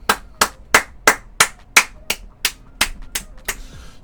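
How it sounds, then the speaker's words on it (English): A single pair of hands claps about eleven times at a steady, brisk pace, each clap sharp and close, in a news studio setting within the game Oath of Office. "Give him a round of applause."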